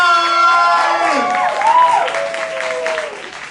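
A comedy competition crowd in Claremont cheering and whooping loudly with applause mixed in. Shouted voices rise and fall over the noise.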